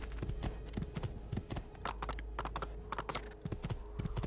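Horse hooves clip-clop in Assassin's Creed 2 as a quick, regular run of crisp hoof strikes at close range, with a faint low rumble beneath.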